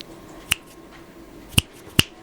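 Three sharp, close finger snaps, the first alone and the last two in quick succession, each crisp and isolated over a quiet background.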